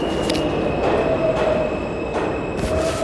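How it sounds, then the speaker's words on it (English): A Queensbound R subway train pulls into a New York City station with a heavy, steady rumble and high wheel squeals that rise and fall, loud and close on the platform. "Oh, the train's here."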